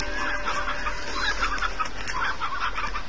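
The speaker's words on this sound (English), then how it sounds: "these are stone hens" Stone hens in Slime Rancher clucking repeatedly, a busy overlapping run of close, loud poultry calls over a low game hum.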